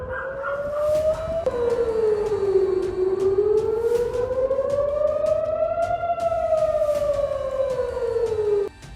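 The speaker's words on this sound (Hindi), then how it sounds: "सेंट्रल इजराइल में कई बार सायरन अलर्ट सुनाई दिए।" A loud air raid siren wails continuously in central Israel, its tone rising and falling in slow, steady sweeps.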